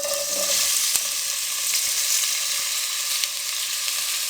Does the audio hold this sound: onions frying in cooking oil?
yes